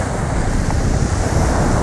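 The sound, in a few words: waves on the beach in Kefalonia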